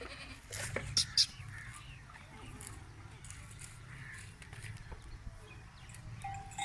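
A young goat of the kheera type, a male kid for sale, gives a couple of short bleats near the start over low rustling and soft background voices.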